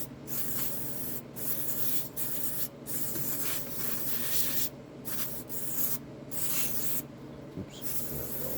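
Brake cleaner is sprayed on an Echo CS306 chainsaw carburetor in a series of short and long hissing bursts separated by brief pauses, close and fairly quiet.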